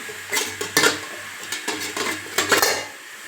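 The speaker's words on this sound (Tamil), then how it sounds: "இப்போ இட்லி பாத்திரம் வச்சுக்கலாம்" A metal idli steamer pot clanks and scrapes against other metal several times, close by, with a couple of sharper knocks as it is set in place over water.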